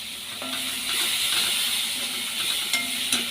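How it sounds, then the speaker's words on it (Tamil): Ginger and garlic sautéing in a pan for a crispy squid fry give off a steady hissing sizzle, broken by a few light scrapes and taps of a stirring utensil, with no speech. "இஞ்சி பூண்டு போட்டாச்சுங்க. நல்லா வதக்கணுங்க"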